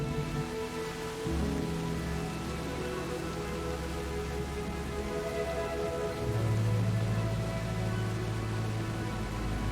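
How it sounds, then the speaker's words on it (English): Steady, dense rain hisses continuously throughout, a heavy downpour on a Bali coffee farm drumming on surfaces with a low rumble that deepens partway through. "the rain began to close in, starting as a light drizzle before turning into a full downpour"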